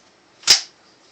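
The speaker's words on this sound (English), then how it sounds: "Let's put the bipod up." A single sharp metallic snap as the bipod on a Galil rifle is folded out, one short near click standing alone in an otherwise quiet moment.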